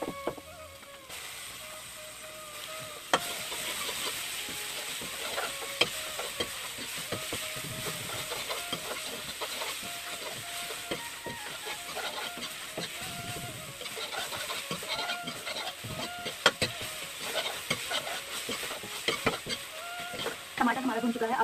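Grated tomato frying with golden-brown onions in a pan, a steady low sizzle with scattered stirring scrapes and clicks running throughout, close and moderately loud, with no talking.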